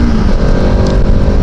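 A TVS Apache RS200 motorcycle pulling away after a tea break on a ride from Kanchipuram toward Vellore, its engine note loud and close in a continuous buzzing drone with faint traffic around.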